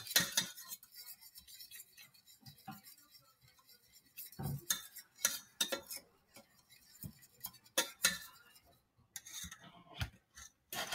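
A spoon stirring cinnamon cake batter in a bowl, giving quiet, irregular clinks and scrapes of metal against the dish, with short pauses between strokes.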